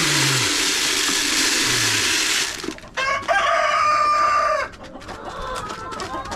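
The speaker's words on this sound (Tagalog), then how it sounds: "dalawa po ang ating rooster dyan" Rhode Island Red chickens cluck nearby while a rooster crows, the calls rising over a steady outdoor hiss on a farm, with no talking.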